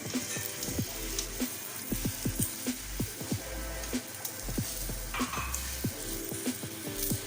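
Mooli paratha frying in a pan after being flipped, giving a steady, moderately quiet crackling sizzle with scattered small pops spread evenly throughout, no talking.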